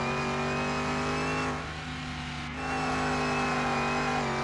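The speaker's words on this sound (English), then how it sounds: "It's got the supercharger whine" Car engine in Car Mechanic Simulator 2021 with a supercharger, a loud sustained high-pitched whine over steady engine drone that dips briefly before resuming.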